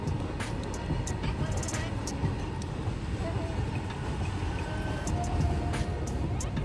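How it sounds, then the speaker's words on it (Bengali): A steady, rumbling roar of a train passing a railway crossing in a village fills the scene, with faint clanks and squeals over the continuous low noise. "এখন ট্রেন যাচ্ছে"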